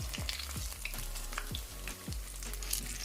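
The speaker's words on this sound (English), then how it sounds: "we're just gonna let this fry up." Jamaican saltfish codfish fritters fry in hot oil, a close, steady crackling sizzle with bubbling pops and occasional soft stirring knocks, no talking.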